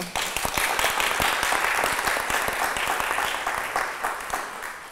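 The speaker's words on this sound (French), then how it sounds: "Je crois qu'on peut l'applaudir." An audience at a conference hall applauds, dense clapping that swells quickly and holds steady before slowly thinning toward the end.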